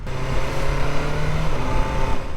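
A 2024 BMW S1000R motorcycle with a quickshifter accelerates hard, its engine roaring steadily and loudly under broad wind noise, the pitch holding then shifting as gears change.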